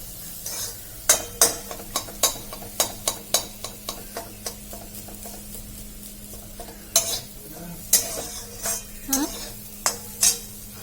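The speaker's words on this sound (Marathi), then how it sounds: "त्याला आपण हलवत राहणार आहोत कंटिन्यू वीस ते पंचवीस मिनटं हलवायचंच आहे आपल्याला" A spoon repeatedly stirs and scrapes cooked lentils in a pan, giving a steady series of sharp, close clinks and taps over a faint background hiss, with no voices.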